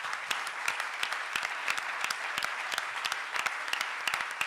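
A church congregation claps together in a dense, sustained burst of applause, with sharp individual claps standing out from the wash of hands, and no voices rising above it.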